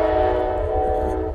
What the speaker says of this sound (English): You gotta like trains, though. Oh, here you go, it's the Amtrak.